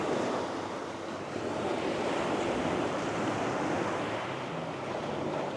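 Ocean waves break steadily on a Bali shore, a continuous, loud wash of surf with a breezy, wind-buffeted rush that never lets up.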